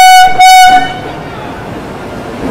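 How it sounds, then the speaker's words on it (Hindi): Vaishali Express arriving at an Indian railway station, hauled by a WAP 7 electric locomotive: a loud, near horn blast broken into two short bursts, then a steady rumble of the train rolling in. "तो भाई साहब ये आ चुकी है अपनी ट्रेन"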